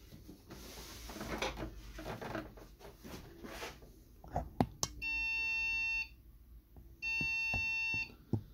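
An HP Pavilion Gaming 690-0013W Ryzen desktop PC, faulty and needing BIOS recovery, emits a BIOS beep code: two long steady beep bursts of about a second each, following some handling clatter and clicks.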